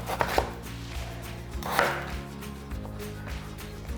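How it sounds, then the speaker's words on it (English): Knife slicing peeled vegetables on a cutting board for a skillet shepherd's pie, a few crisp close chops and cuts at irregular intervals over a steady low kitchen hum. "we're gonna slice up each half"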